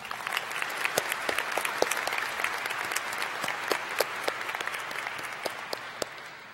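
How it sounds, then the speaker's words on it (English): A commencement audience applauds nursing graduates, a sustained, even roar of many hands clapping with sharper individual claps standing out, fairly distant and uninterrupted. "Please join me in a round of applause for all of our graduates here today."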